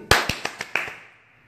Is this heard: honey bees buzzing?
no